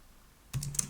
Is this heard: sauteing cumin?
no